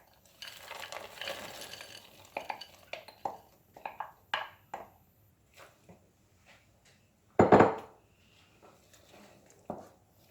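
A spoon stirs mixed vegetables in a pot over a low flame, giving a series of soft scraping and clinking strokes with a sharper clatter midway, close and fairly quiet.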